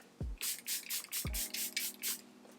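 Several quick hissing bursts of makeup setting spray mist, close and crisp, with a couple of soft thumps of handling between them.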